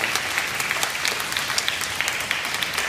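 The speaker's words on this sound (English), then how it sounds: "So will you give me and our guests a round of applause" A seated audience at a community event gives a round of applause, with dense, steady clapping throughout at moderate volume and no voices over it.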